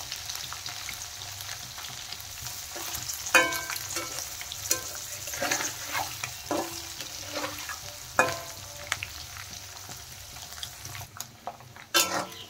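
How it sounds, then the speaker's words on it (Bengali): Paneer frying in a pan with oil, a soft continuous sizzle broken by scattered clinks and scrapes as the pieces are turned, with no talk. "এক সাইড ভাজা হয়ে গেছে আমার পনির।"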